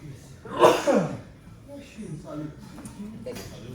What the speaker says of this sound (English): Sorry, let me sneeze.